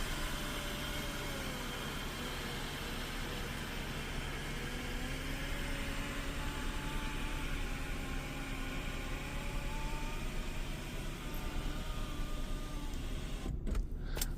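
The panoramic glass sunroof of a Cadillac SRX retracts electrically, with a quiet, steady motor whir that runs for several seconds inside the car before a faint click near the end.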